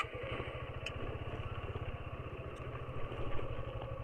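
A motorcycle idles close by with a steady, even chug and a faint clatter, ahead of a bike ride back from Kasauli toward the Shimla road. No one speaks.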